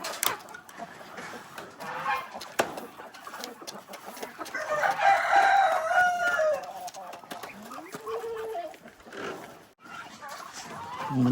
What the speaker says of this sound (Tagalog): Ang manok.